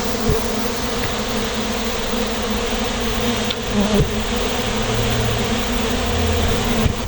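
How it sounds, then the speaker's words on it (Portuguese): A dense, steady buzz of many stingless bees flying around hive boxes, close and continuous. "a movimentação, o entra e sai de abelhas das caixas"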